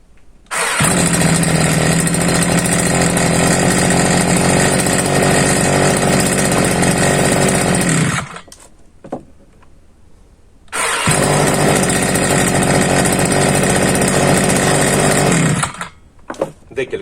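A Procraft T4200EL petrol string trimmer with electric start fires up and runs at a loud, buzzing two-stroke whine for about eight seconds, cuts off, then starts again and runs loudly for several more seconds before stopping.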